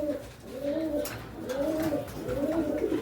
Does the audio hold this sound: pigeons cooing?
yes